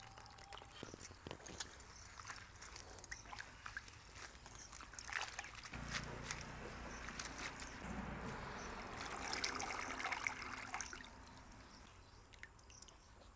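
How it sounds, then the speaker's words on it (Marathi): Water splashing and trickling as muddy wild leafy greens are swished and rinsed, steady wet sloshing close by with occasional drips. "भाजी 2 पाण्याने धुवून घ्यायची आपल्याला"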